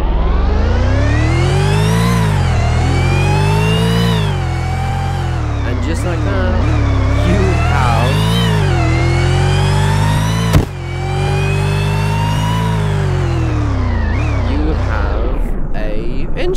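A 6.5-liter V8 engine on a police car in Roblox revs up and down repeatedly, loud and buzzing with rich harmonics, while a person talks briefly over it.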